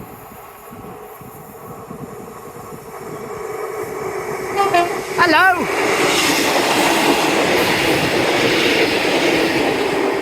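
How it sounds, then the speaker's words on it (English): Train approaching Spray Point in hot weather, a low rumble building before a short series of horn toots in the middle, then a louder sustained rolling roar as it passes, with a brief spoken greeting. "Yes, it was a happy train coming towards Spray Point."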